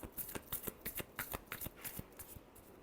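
A deck of tarot cards riffled and shuffled by hand, a quick run of crisp, rhythmic flutters and taps, close and soft, with no talking.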